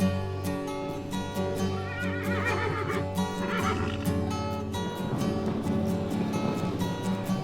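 Horses being set loose neigh and whinny, loud shrill calls rising and falling over a dense, steady background of rumble and clatter.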